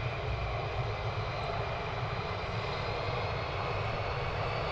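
Military jet engine roaring steadily at RAF Lakenheath during takeoff, a loud, continuous broadband rumble that holds near and constant throughout with no speech over it.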